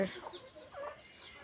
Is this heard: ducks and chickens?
yes